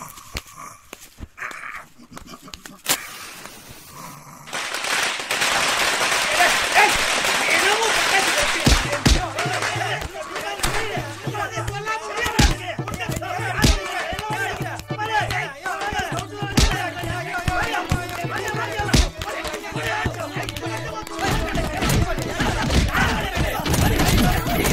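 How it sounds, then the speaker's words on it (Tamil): After a few scattered pops, a long string of firecrackers bursts into rapid, dense crackling that continues loudly, mixed with background commotion. "போய் பட்டாசு வைக்கலாம்"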